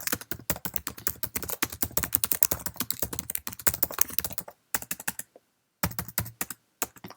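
Rapid, steady typing on a Mac keyboard while writing an Outlook email: dense, close key clicks in an uneven rhythm, with a brief pause near the end before the keystrokes resume. No voices.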